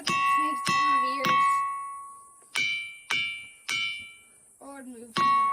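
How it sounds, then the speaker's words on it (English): Musical rocks lightly tapped, giving a series of clear ringing chimes, each struck note sustaining and decaying, close and alone with no talk. "this video of these musical rocks that when lightly tapped, they make a chiming sound"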